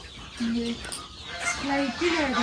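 Domestic chickens cluck and call at dusk, several drawn-out tonal notes rising and falling close by over a low background hum.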